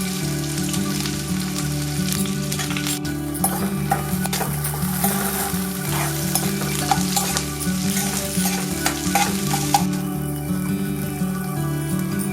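Onions sizzle and crackle steadily in hot oil with mustard seeds and urad dal, with stirring scrapes over a continuous loud fry in a home kitchen pan.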